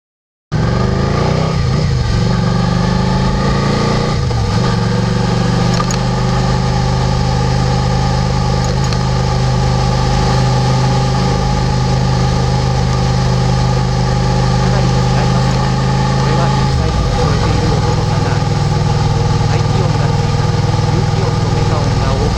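A Suzuki SV650 motorcycle rides on the road, heard from a handlebar mic behind the windscreen: a loud, steady engine drone with gear and speed shifts near the start and around the seventeenth second.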